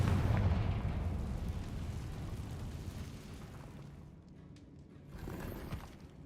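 A Confringo spell explosion in the video game Hogwarts Legacy opens with a heavy, booming blast that rumbles and slowly fades, followed by a smaller burst near the end.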